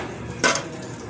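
Pea dal is poured into a pan of fried bitter gourd, making one short, sharp splash and sizzle that stands out from a quiet kitchen background hum.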